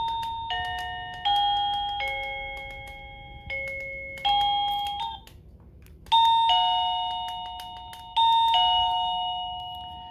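Wireless doorbell chimes from a unit with 36 melodies play one after another, bright tonal dings switching every second or two, with a brief quiet gap midway.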